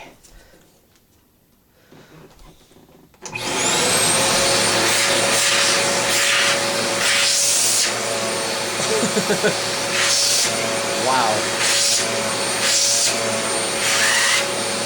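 An Aspiron 1200W bagless vacuum cleaner switches on after a few seconds of quiet and runs as a loud, steady whine and roar, close by. A person makes a brief exclamation over the motor.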